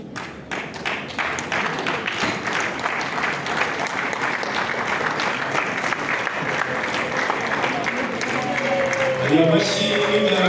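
Guests at a wedding celebration applaud in a steady, building round of clapping, with voices talking and calling out underneath the sustained crowd noise.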